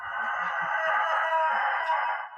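A steady, close chicken call held for a couple of seconds, loud and continuous, with faint lower clucks underneath.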